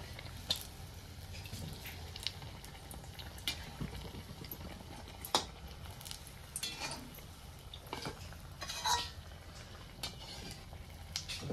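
Chili fritters (mirchi vada) fry in hot oil with a steady soft crackling sizzle, faint and continuous, with a few sharp clinks and pops over roughly eleven seconds.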